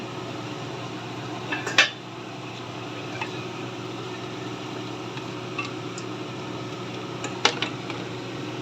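A metal lid clanks onto a cooking pot of Filipino pork mechado, with two sharp clinks standing out over a steady kitchen hum and a few lighter taps.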